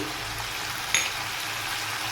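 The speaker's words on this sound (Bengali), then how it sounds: "ঢ্যাঁড়সটা কিন্তু আমি বেশি ভাজবো না অল্প একটু ভাজা ভাজা করব" Okra (bhindi) frying in a pan for an aloo-okra curry, a steady soft hiss of hot oil sizzling, with a brief faint clink partway through.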